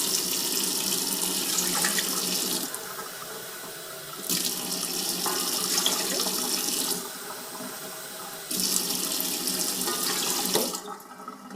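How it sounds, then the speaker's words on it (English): Tap water runs into a mixing bowl in a home kitchen, warm water for activating yeast for French bread, in three steady gushing bursts with brief pauses between them, close and fairly loud, with no talking. "So I'm going to start first with putting some water in my bowl."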